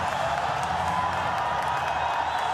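Stadium crowd at a Pakistan versus Sri Lanka one-day international cricket match cheering and applauding, a dense sustained roar with scattered clapping and whoops, distant and continuous, with faint commentary talk underneath.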